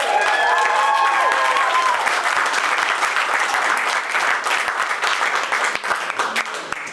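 Wedding guests applaud and cheer for the bride and groom, a loud continuous wash of clapping with a few whoops early on, sustained throughout and tapering slightly toward the end.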